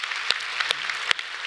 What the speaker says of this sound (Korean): 박수 한번 해주겠습니다